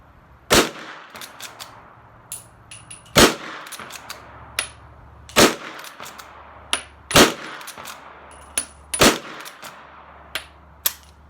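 Lever-action rifle shots fired outdoors, five sharp loud reports spaced roughly two seconds apart, each followed by lighter metallic clanks of the lever cycling and brass ejecting.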